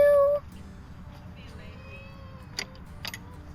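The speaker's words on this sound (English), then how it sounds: "Do I hear a cat meowing?" A small pet cat on a permaculture homestead gives a single clear meow at the start, close and fairly loud, followed by quiet outdoor background with faint distant noises.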